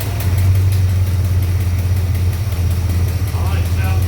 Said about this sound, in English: I think we got this old Ford running